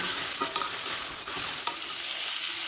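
Masala chicken curry cooks in a pan with chicken stock added, sizzling steadily close by while a spoon stirs and scrapes in a few sharp clacks; no one speaks.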